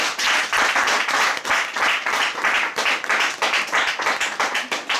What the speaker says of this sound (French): On acclame l'Éternel pour eux d'abord.